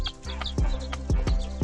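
Hens clucking and pecking, with several sharp low pecks or thuds breaking through a continuous murmur of close clucks and soft calls, loud and near.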